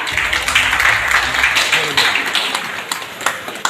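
A crowd at a community organisation meeting in Jhunjhunu, Rajasthan claps for an award recipient, a dense and fairly loud patter of hands that is steady throughout, with voices mixed in.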